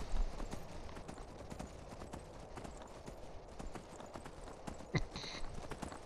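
Horse hooves clip-clopping at a walk in Skyrim, a steady run of quiet, evenly spaced thuds close by, with a brief sharp knock near the end and no talk over it.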